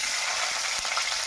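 Chicken frying with spices in a hot pan, a dense, steady sizzle with faint crackles and a few soft stirring knocks, close and alone.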